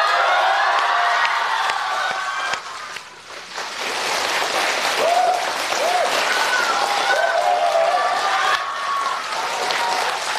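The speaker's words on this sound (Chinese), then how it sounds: "哎，这叫掌声热烈" A theatre audience at a crosstalk comedy show breaks into loud, sustained applause, a thick wash of clapping over about ten seconds with whistles and scattered cheers rising through it, briefly dipping before swelling again.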